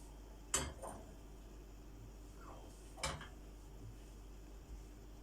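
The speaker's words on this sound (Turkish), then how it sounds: "Üzerinde oluşan bu siyah köpüklerini bir kaşık yardımıyla alalım." A metal spoon scrapes and clinks against a pot while skimming foam from boiling homemade sour cherry jam, giving two sharp distinct knocks a few seconds apart and a fainter tap over a quiet background.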